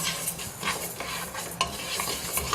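Rice being dry-roasted in a pan for homemade sambar powder, grains scraped and stirred with a steady scratchy rustle and light crackle, close and moderately quiet, with occasional sharper scrapes and no talking.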